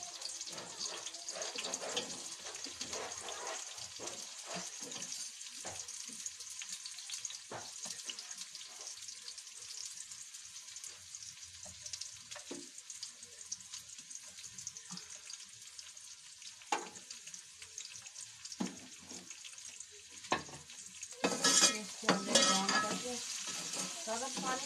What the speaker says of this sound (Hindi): जैसे कि देख रहे हैं भिंडी फ्राई कर ली है, इस तरह से ब्राउन कर लेना है हल्के से